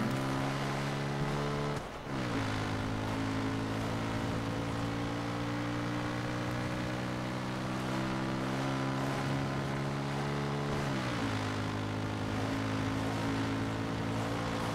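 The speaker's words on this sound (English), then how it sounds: "Looks like a helicopter." A helicopter in the video game Far Cry 6 drones steadily with a low, even rotor hum, its pitch dipping twice as it moves overhead, with no talk over it.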